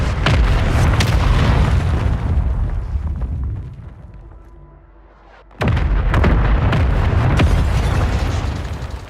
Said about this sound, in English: What kind of fucked up mortar support was this?